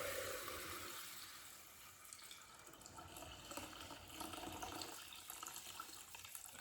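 Melted beef tallow from a crockpot poured through a strainer, a steady close trickling and splashing of liquid that runs continuously and alone, with slight surges along the way.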